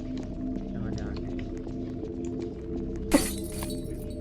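A single sharp shattering crack, like glass breaking, bursts out near the end amid a steady hum and low background noise.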